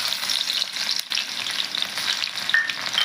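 Coarsely crushed garlic frying in heated oil for a tomato and yogurt chutney tempering, a steady close, bright sizzle with crackling and no talk.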